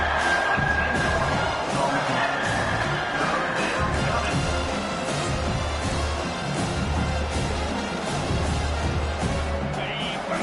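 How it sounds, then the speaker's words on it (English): A football stadium crowd at a South Carolina vs Arkansas game roars steadily on third down, a dense, loud wall of cheering and shouting that holds for the whole stretch, with voices blended into the din. "Decibels rising as the crowd gets behind offense on third down."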